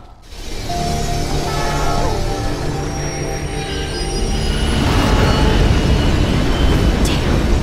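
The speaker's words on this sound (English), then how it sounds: "The train's coming!" In Life Is Strange, a train approaches on the tracks, its metal wheels screeching and squealing with a rising rumble and mechanical clatter that grows louder and closer.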